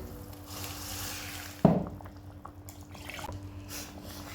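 Cooked lentils and their water are poured into a pot in the kitchen, giving one brief splashing pour in the middle, followed by faint liquid drips and quiet handling.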